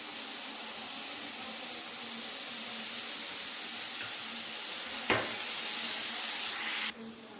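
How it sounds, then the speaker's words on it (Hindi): Raisins frying in a pan for Kabuli pulao, a steady soft sizzle and hiss throughout with a brief sharper crackle near the end, close and moderately loud, no voices. "किशमिश को फ्राई कर लेते हैं।"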